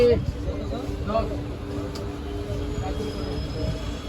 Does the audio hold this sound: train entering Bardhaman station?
yes